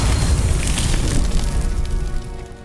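Confringo fire spell exploding in the video game Hogwarts Legacy, a loud sustained crackling, roaring burst that churns steadily and tapers slightly toward the end, no speech.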